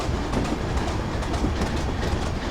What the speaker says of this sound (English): I'm just idling the power at this point and allowing the train to coast.